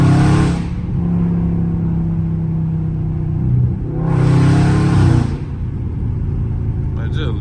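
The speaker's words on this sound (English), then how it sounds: "listen to my car sound" A Dodge Charger Scat Pack on stock exhaust without headers revs hard twice, loud and close, each burst rising then falling back to a deep, steady idle rumble between them.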